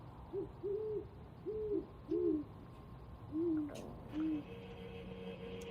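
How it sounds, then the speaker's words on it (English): A pair of great horned owls hoots in a series of deep, clear low hoots, about six in total, spaced in an irregular rhythm, moderately near over quiet outdoor background with a faint higher tone late on. "So Logan said saw a pair of horned owls Tuesday morning"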